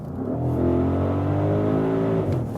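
An Audi SQ8 with the 4.0 V8, set to dynamic mode, revs up loud and close, its deep engine note climbing steadily in pitch and holding strong throughout.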